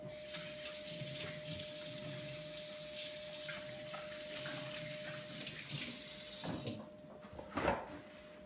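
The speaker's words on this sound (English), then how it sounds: "My hands are oily, so I'm going to go wash them so I don't slip." Oily hands being washed under a running kitchen tap, with a steady rush of water that breaks into uneven splashing toward the end, close and moderately loud with no talk.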